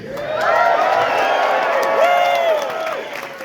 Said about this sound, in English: What an incredible crowd for Hamilton here today.